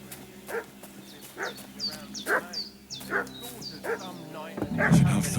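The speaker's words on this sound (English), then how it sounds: "What's that dog making such a fuss about?" A dog barks repeatedly in the medieval video game Kingdom Come: Deliverance II, sharp evenly spaced woofs heard at moderate distance over a steady ambient game background.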